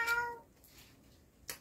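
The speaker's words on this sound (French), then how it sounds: "Mon chat est avec nous." A domestic cat gives a single short, fairly quiet meow at the start, followed by near silence and a brief soft noise at the end, with no talking.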